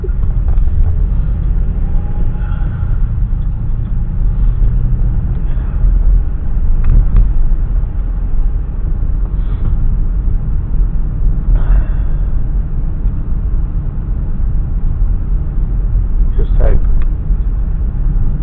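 A car cruises along a quiet early-morning road from Immingham toward Melton Ross, its steady engine and tyre rumble continuous and close, with faint brief sounds rising over the drone.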